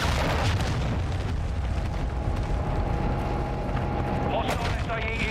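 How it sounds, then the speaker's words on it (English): A cruise missile explodes in the Call of Duty Warzone battle royale game, with dense, continuous rumbling booms and blast noise that fill the whole stretch, along with mixed game sounds. "Hostile cruise missile incoming."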